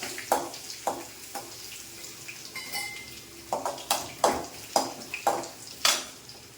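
Lentils and dried red chillies fry in oil in a pan for a ponnanganni greens stir-fry: a soft, steady sizzle runs beneath a dozen sharp, close metallic clinks of a utensil against the pan, irregularly spaced, with no talking.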